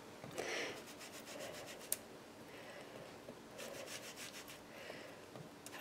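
A stencil is rubbed back and forth with a blending tool during card making, making faint, soft scratchy strokes in repeated bursts on a silicone mat, close by and with no one talking.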